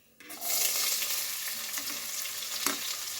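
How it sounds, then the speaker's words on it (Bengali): Chopped onion sizzles with whole spices (green and black cardamom, cinnamon, cloves) in a pan for chicken pulao, a steady loud frying hiss that swells in after a short quiet start, with a few scraping stirs. "এবার পেঁয়াজটাকে হালকা লালচে করে ভেজে নেব।"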